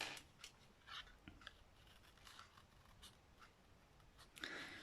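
Scissors snip around a hand-drawn line on a craft cutout, giving soft, faint, irregular cutting clicks close by with no talking.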